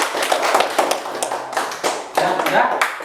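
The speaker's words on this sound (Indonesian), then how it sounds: "silakan kasih tepuk tangan dulu anak-anak" Schoolchildren in a classroom clap their hands in uneven bursts, with a couple of sharp surges and pauses between, fairly loud and close, with voices mixed in.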